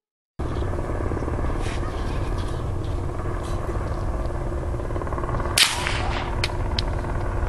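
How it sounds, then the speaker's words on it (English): A helicopter circling overhead, caught on a trail camera outdoors, a steady droning rotor hum held at a moderate distance throughout, with a sharp crack-like impact partway through and faint voices in the background. "the distinct sound of a helicopter circling can be heard"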